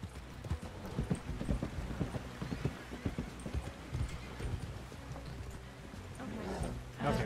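Steady clip-clop of horse hooves trotting in Red Dead Redemption 2 roleplay, a continuous rhythmic clatter with faint background ambience.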